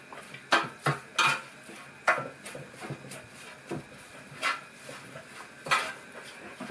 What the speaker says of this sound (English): So we'll give that another little stir around.